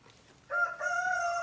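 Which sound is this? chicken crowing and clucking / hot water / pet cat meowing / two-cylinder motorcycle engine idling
chicken crowing and clucking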